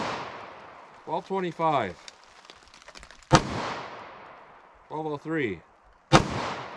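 Two sharp gunshots from a compact 4-inch pistol firing Winchester Silvertip ammunition, loud and close, each followed by a short ringing decay, with someone speaking briefly before each shot.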